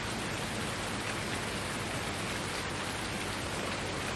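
Rain in Farming Simulator 19, a steady, dense hiss of falling rain at constant loudness, with no talk or other sounds.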